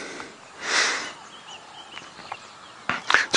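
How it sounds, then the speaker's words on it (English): Birds call and chirp in open air on a morning safari drive, a longer call early on and a burst of sharper, brighter calls near the end, mostly distant and moderate. "We can hear a lot of birds this morning"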